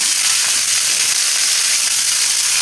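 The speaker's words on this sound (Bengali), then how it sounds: "তেল দিয়েও পাতা নেড়ে নিচ্ছি ভালোভাবে। এবার কেটে রাখা আলু দিয়ে দিচ্ছি।" Cut potatoes go into neem leaves frying in hot mustard oil, giving a loud, dense, continuous sizzle close by with no talking.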